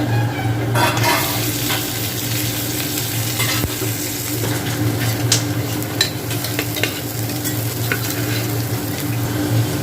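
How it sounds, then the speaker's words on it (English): Potatoes fry in heated oil inside a pressure cooker on an induction cooktop, with a loud, continuous sizzle and frequent scraping stirs close by, and no voices. "So the oil is heated, so I am adding potato."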